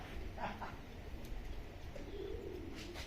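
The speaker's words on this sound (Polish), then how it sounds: "Jest tyle gołębi, moment." Pigeons coo softly in a racing loft after a 342 km race flight, low murmuring calls repeating faintly against steady background noise.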